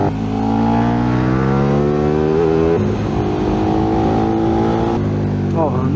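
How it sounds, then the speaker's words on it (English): Loud motorbike engine revving hard and rising in pitch, held close and steady for several seconds with a brief shift midway, on a ride over the Bealach na Ba road in the Scottish Highlands. "the noise of this bike is utterly orgasmic"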